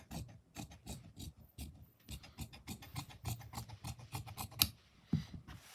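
Scissors cutting the neck opening of a front-open shirt coat during tailoring, a series of quiet, rapid rasping snips in a steady irregular rhythm, close and soft, with no talking.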